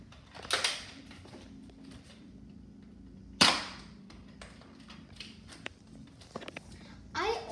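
Nerf blaster fired during an accuracy test, its shots heard as a few sharp isolated snaps, the loudest near the middle and another at the start, with faint shuffling and handling between shots.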